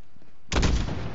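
Covering gunfire in Call of Duty: Modern Warfare opens abruptly after a quiet half-second, a loud, dense burst of rapid shots that carries on steadily to the end without any voices.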